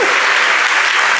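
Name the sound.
applause for the preacher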